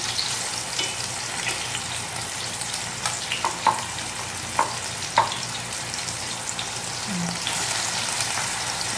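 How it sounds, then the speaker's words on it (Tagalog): Floured tambakol fish frying in hot oil gives a steady, quiet sizzle with a handful of small sharp pops scattered through it, heard up close with no one talking. "tapos na natin prituhin yung ating isda"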